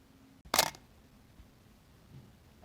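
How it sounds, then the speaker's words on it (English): A camera shutter fires once with a sharp, brief mechanical snap as a photo is taken, followed by quiet room tone. "That little flash of black, that was the shutter opening and closing."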